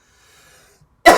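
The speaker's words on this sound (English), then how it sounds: "still am, but now I'm coughing." After near silence, one sudden loud, close cough bursts out at the very end.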